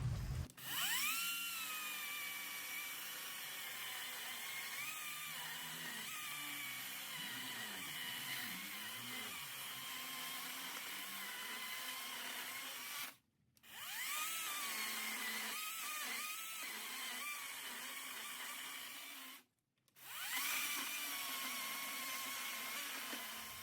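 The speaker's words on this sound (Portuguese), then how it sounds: "só estou testando a motosserra" An Einhell battery chainsaw with 4 Ah batteries whines as it cuts through a large wood slab, pitch shifting with the load, stopping briefly twice before resuming.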